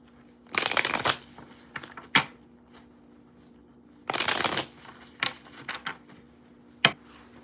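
Tarot cards being shuffled up close, with two long riffling bursts followed by several short taps and flicks of the deck, and no voices.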